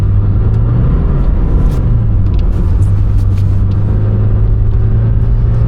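A Lamborghini Temerario's engine drones loudly and steadily from inside the car as it slides on snow, a constant low rumble with a strong held tone and faint intermittent clicks, no talking.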